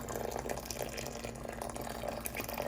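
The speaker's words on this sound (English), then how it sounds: "pour the water straight into the beans, and you're gonna wanna submerge all of the beans equally" Water poured steadily onto ground coffee beans to submerge them for cold brew, a continuous close splashing pour with no talk.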